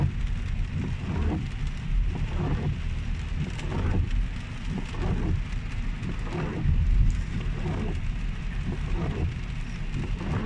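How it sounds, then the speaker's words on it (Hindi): Rain falls steadily outdoors in Riyadh, Saudi Arabia, a continuous close hiss with rumbling gusts of wind buffeting the microphone and no speech. "आप लोग बारिश का मज़ा लीजिए"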